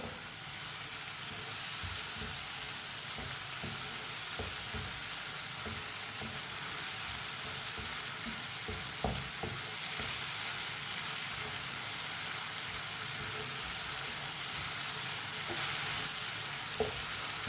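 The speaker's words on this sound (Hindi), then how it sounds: "पत्ता गोभी को 1 मिनट के लिए पका लेंगे।" Cabbage cooks in a pan with a steady, close sizzle and frying hiss, broken by occasional scrapes and taps of a stirring spoon, as the dish of bottle gourd and vegetables comes together.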